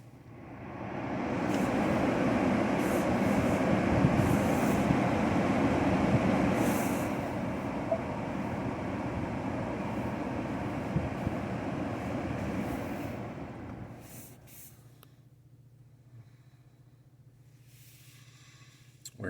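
The climate control fan in a Lincoln Corsair blows air as a broad steady whoosh inside the cabin, holding loud for several seconds before easing down to a quieter hum, with a few clicks of controls and no talking.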